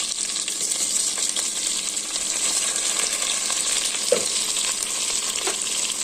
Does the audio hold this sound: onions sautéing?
yes